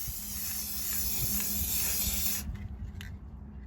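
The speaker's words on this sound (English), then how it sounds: "You're just going to spray it with an even coat." Semi-gloss clear Rust-Oleum sealer sprayed from an aerosol can onto water slide decals, a steady close hiss lasting over two seconds before cutting off, followed by a couple of short faint bursts.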